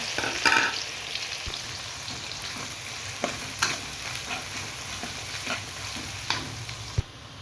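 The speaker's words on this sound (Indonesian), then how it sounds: "Kita tumis bawang putih, bawang merah sama bawang bombaynya sampai betul-betul harum, sampai kecoklatan." Garlic, shallots and onion sauté in hot oil, a steady moderate sizzle broken by occasional spatula scrapes and taps close by.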